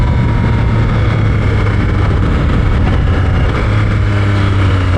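A Yamaha XSR900 GP motorcycle's CP3 triple engine pulls hard under acceleration, a loud, steady roar with rushing wind throughout.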